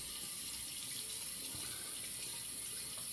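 A tap runs steadily as a 1969 Gillette English Knack TTO safety razor is rinsed at a sink, a continuous close splashing hiss with no voices.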